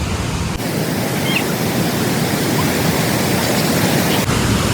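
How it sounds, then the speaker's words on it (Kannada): Loud rushing water roars steadily at a waterfall in Duluth, reaching a steps viewpoint. The broadband roar is close and constant, with no other sounds breaking through. "ನೀರಿನ ಆವಾಜ್ ಇಷ್ಟು ಬರಾದಿತ್ತಂದ್ರೆ ಮೈ ಗಾಡ್"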